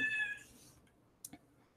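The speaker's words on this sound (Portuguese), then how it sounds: "minha gata tá miando aqui." Pet cat meowing indoors during an online seminar talk, a faint, short meow at the start that fades, followed by a couple of soft clicks in near silence.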